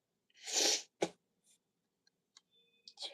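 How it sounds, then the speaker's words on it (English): A single close sneeze bursts out, followed by a few faint clicks and small rustles in a quiet room. "I'm going to sneeze."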